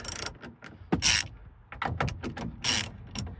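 A 10mm socket ratchet undoing the mirror bolts on a Toyota HiAce, with quick bursts of close, crisp ratcheting clicks between brief pauses and a few rustling handling noises, with no talking.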